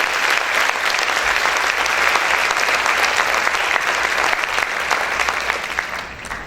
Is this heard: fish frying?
no